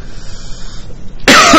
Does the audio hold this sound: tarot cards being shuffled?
no